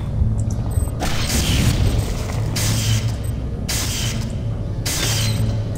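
Weapon fire smashing an egg in the System Shock 2 video game: four loud, booming bursts, each about a second long, over a steady low mechanical hum.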